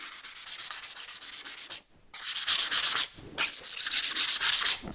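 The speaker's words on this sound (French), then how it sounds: "je suis parti avec la cale à poncer comme un bourrin" A sanding block scrubbed quickly back and forth across a milk-painted surface, making loud, rhythmic rasping strokes in close bursts separated by two short pauses.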